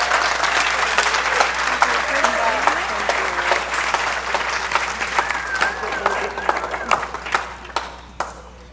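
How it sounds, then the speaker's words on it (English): Audience applause at an evening with a guest in 2021, honoring the event's organizer, Sarah Madison; sustained clapping fills the room at steady volume, with scattered voices and a melodic tone drifting through. "And if we could just give her a round of applause and thank her."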